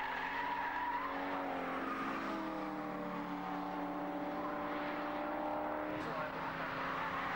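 Saloon race cars from a 1991 BRSCC Road Saloons event pass on a racing circuit, their loud engines building and sweeping by with shifting pitch, one roaring past close and then fading away.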